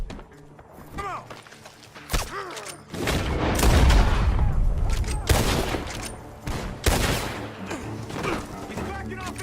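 Gunfire in the Western video game Red Dead Redemption 2, with loud repeated shots and booms from a barn shootout. They crack in bursts over a busy game mix, with voices heard in places.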